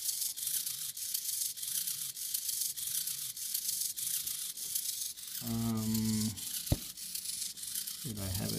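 An Arduino-controlled hobby servo motor sweeps slowly, giving short whining, buzzing motor bursts over a steady hiss, with a sharp click in between.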